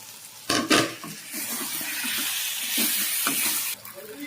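Fried potatoes and green chillies hit a pan of prawn masala with a bright hissing sizzle, broken by clattering stirs and scrapes of a utensil against the pan, close and steady.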